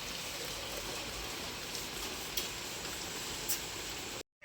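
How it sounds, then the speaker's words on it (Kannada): Heavy rain pours down in a village, a dense, steady hiss of drops drumming on surfaces close by, with a couple of brief louder splashes before it abruptly stops. "ಅಲ್ಲೇ ಚೆನ್ನಾಗಿ ಮಳೆ ಬರೋದಕ್ಕೆ ಶುರುವಾಯಿತು."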